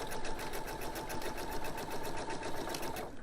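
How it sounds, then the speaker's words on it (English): Sewing machine stitching around a circle of fabric held with clips for a bowl cover, a fast, steady mechanical whir and needle clatter, close and continuous, with no talk. "I'm just going to sew around it. I don't want to pull, but I want to make sure the fabric is evenly fed"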